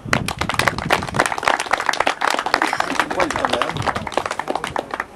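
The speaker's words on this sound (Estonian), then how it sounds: "Aplaus!" Applause from a gathered audience for a prize winner at a Mercedes-Benz car club track event in Audru, dense steady clapping throughout, close and fairly loud, with voices mixed in.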